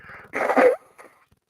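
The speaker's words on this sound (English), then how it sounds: "Maybe I should mute when I blow my nose." A person blows their nose once in a short, loud, close burst, followed by a faint sniff, with no talking.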